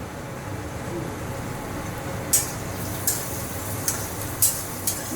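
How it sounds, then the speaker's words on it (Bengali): Grated ginger frying lightly in a pan while veg chowmein is being made, giving a steady soft sizzle broken by a few brief sharp spatters or utensil scrapes. "আদাটাকে বেশি ভাজবো না, হালকা হালকা ভাজবো"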